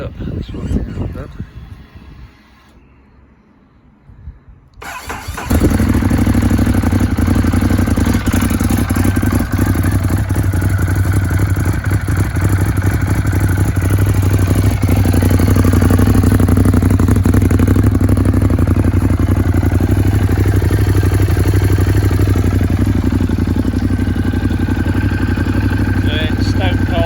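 A cold 2015 Ducati Monster 821 starts up, then settles into a loud, close, steady idle with a rumbling, clattering beat that runs unbroken for more than twenty seconds, with some talk mixed in.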